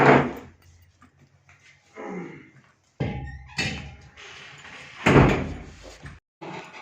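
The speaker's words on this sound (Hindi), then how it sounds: "दरवाजा को बंद कर" A door being shut at home, heard as several loud close thumps and bangs with rattling, separated by quieter gaps.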